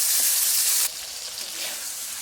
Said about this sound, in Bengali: মাছগুলো আমি এখন ভেজে নিচ্ছি